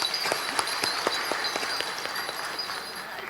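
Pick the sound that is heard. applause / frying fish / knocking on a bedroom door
applause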